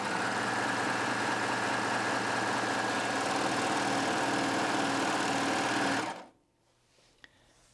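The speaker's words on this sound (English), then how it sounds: "So I'm just going to pop my fabric under the foot on a double layer and go ahead and sew." A Baby Lock Aspire coverlock machine stitches a cover stitch through a double layer of fabric, a fast steady mechanical whir running for about six seconds before it stops, leaving near silence with one faint click.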